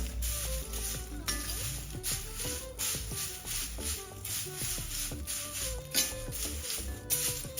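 Sun-dried curry leaves roast in hot oil for idli podi, giving a steady close sizzle with scattered crackles and stirring rattles, while faint tonal sounds run underneath.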